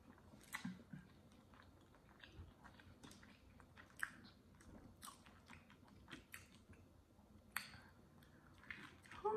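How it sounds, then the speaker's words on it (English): Close, quiet chewing and biting on shrimp from a crawfish and shrimp seafood boil, heard as scattered soft wet crunches and clicks at an irregular pace with no talking. "I ate both of those shrimp."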